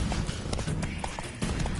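Horse hooves gallop in The Witcher 3 video game, a continuous fast rhythmic drumming of hoofbeats, close and fairly loud over a dense background of movement noise.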